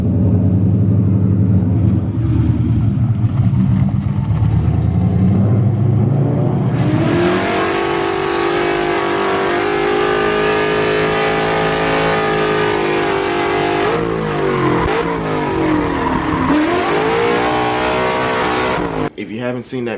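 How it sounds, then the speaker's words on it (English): A Coyote-swapped Fox body drift car engine revs loudly and continuously, its note climbing and wavering through several throttle swells before cutting off sharply at the end. "It is my friend Andrew Coyote swap Fox body, and it's a drift car."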